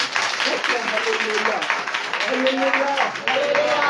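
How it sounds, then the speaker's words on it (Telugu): Congregation clapping for the Lord in a church service, a dense sustained burst of applause mixed with raised voices and a speaker talking over it. "ప్రభుకు కొట్టని చప్పట్లు"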